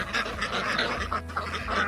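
Several ducks quack in a dense, overlapping chorus close by on a New Zealand homestead farm among citrus trees, the calls continuous and busy with a low hum underneath.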